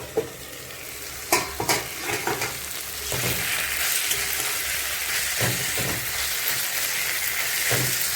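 Snake gourd frying in a pan, a soft steady sizzle with a few sharper stirring scrapes and clicks near the start, continuing alone at moderate level without talk.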